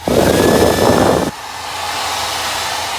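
Hair dryer in a cruise ship inside cabin blasts hot air loudly for over a second, then switches to a lower, quieter hum that carries on steadily.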